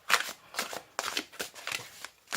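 Tarot cards being shuffled by hand in repeated riffling bursts, close and crisp, about six quick shuffles in a steady rhythm with no talk.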